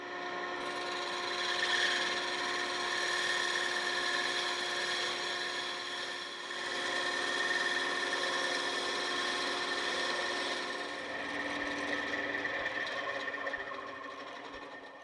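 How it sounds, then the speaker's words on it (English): A band saw runs while cutting wood, giving off a steady, even whine with a gently swelling and fading grind as the blade works the board. It plays alone at moderate loudness, with no talking. "while the bandsaw is powered on, give full attention to your work"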